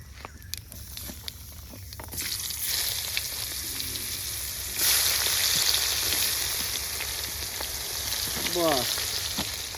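Chopped onions frying in a pan with dried red chili, bay leaf and whole cumin, a steady sizzle that swells louder as they hit the oil, with scattered ticks and a brief voice near the end.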